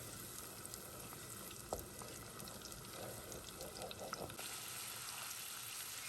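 Onions sauté in butter for a chicken pot pie filling, a soft continuous sizzle with occasional spoon scrapes and clicks as they are stirred, fairly quiet and with no talking.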